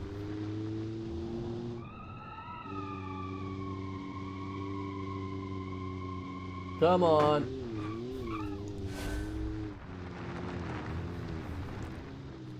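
Simulated car engines and tires in the BeamNG driving game: a steady, droning engine tone shifts pitch, broken by a sharp burst of tire squeal midway, while a person speaks briefly.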